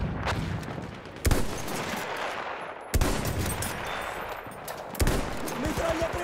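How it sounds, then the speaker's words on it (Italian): Machine gun fire in Battlefield 1 rattles in rapid bursts amid a dense, loud battlefield din, with sharp heavier shots standing out every couple of seconds and a voice briefly heard over it. "Mitragliatrice! È una delle loro!"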